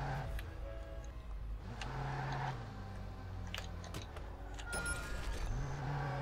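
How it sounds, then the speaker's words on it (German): A car in the video game Watch Dogs is unlocked and driven off, its engine humming and revving low and steady beneath clicks and small clatters, with faint game sounds around it. "Schönes Auto. Wie ich es einfach aufschließe,"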